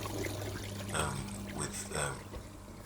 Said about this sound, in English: you can hear it, nice and powerful drainage coming out there